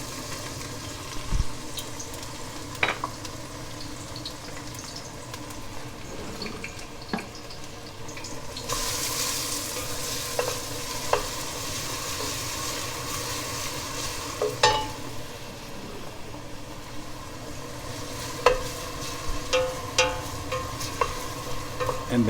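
Onions sweating in a pan for pasta e fagioli, with steady low sizzling broken by periodic scraping stirs, plus a brief louder hiss partway through; no talking.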